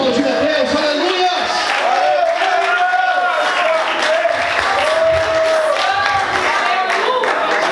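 Church congregation applauding God during a service, steady loud clapping blended with cheering crowd noise and a prominent voice calling out over the top for the whole stretch.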